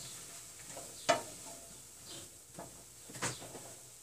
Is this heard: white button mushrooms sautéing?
yes